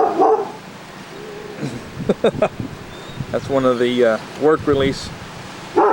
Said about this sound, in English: We got a little puppy dog down there.